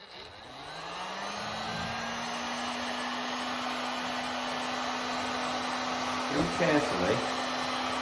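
A heat gun blows steadily while warming a dented uPVC window surface, a constant whooshing roar with a fixed motor hum, close and continuous, with brief speech near the end.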